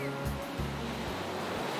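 Ocean waves break on the East Sea coast, a broad, rough surf wash close by, with low rumbling swells rising and falling over about two seconds.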